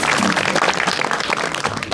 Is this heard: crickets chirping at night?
no